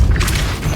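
A Depulso spell cast in the Hogwarts Legacy video game gives a single short, deep booming burst with a bright whooshing flare, loud and close, with no voices.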